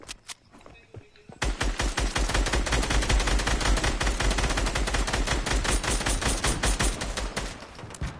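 Rapid bursts of video game gunfire rattle loudly and continuously, sounding like automatic weapons firing in quick succession after a brief quieter start.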